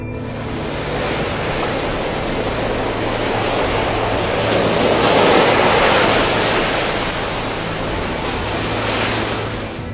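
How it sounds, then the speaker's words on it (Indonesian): High ocean waves roar loudly and continuously, a dense wash of surf that swells toward the middle and holds, with no voices. "Gelombang tinggi akibat guncangan dahsyat."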